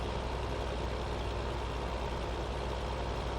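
Tractor engine from the Farming Simulator 2015 video game during orchard harvesting, a steady low droning rumble that holds evenly throughout, close and continuous with no speech.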